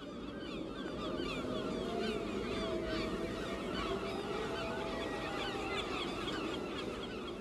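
Many birds call continuously over a steady rush of wind on a windy coast, a dense flock chorus of honking, gull-like cries layered near and far with no talk.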